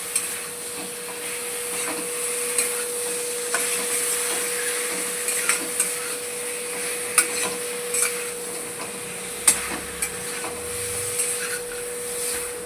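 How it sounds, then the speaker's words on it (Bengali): Chicken stirred with spices in a pan for a tomato chicken dish, soft scraping and clinking of a spoon against the pan in irregular taps over a steady background hum and faint sizzle. "মশলার সঙ্গে চিকেনটা মিশিয়ে নিচ্ছি।"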